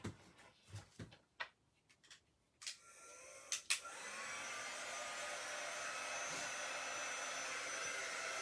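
A quiet hair dryer runs steadily, drying chalk paste on Christmas tree cutouts, starting after a few light clicks and handling knocks and then blowing continuously and close.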